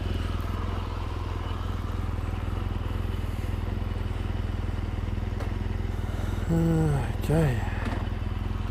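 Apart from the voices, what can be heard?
BMW R1200GSA motorcycle riding with 21-inch front wheel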